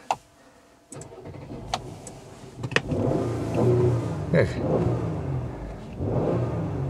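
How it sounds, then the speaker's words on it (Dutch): After a short word, a Mercedes E400 six-cylinder engine starts pulling and accelerates with a rising, throaty drone, heard from inside the cabin, growing louder toward the end. "zo'n E400 met zo'n dikke 6-cilinder brommer"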